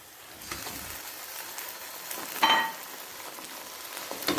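Chicken going into a hot pan of browned ginger garlic paste, a quiet steady sizzle with a brief louder spatter partway through.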